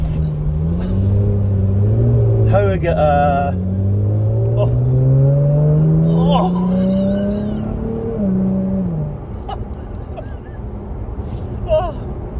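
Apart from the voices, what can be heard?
2018 Jaguar F-Type engine revving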